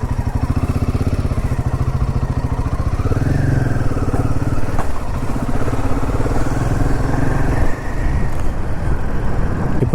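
A Royal Enfield Himalayan 450 motorcycle engine runs steadily, close by and fairly loud, for the whole stretch on a ride to Nohkalikai Falls. A slight wavering in its pitch suggests light throttle changes.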